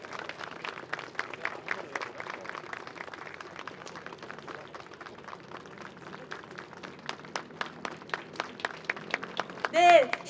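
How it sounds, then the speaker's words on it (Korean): Scattered applause from a crowd at an outdoor memorial rally for a deceased worker, claps steady and moderate before growing louder near the end, with voices mixed underneath. "박수로 모시도록 하겠습니다."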